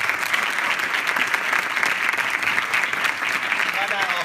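Steady audience applause at a music school concert for a female percussionist, dense clapping that holds at an even level throughout, with a voice talking faintly over it.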